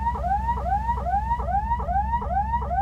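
A household alarm sound pitched down by half to serve as a police siren in the building game Brickadia: a loud, repeating rising wail cycling about every 0.45 seconds over a steady low rumble, with no talk.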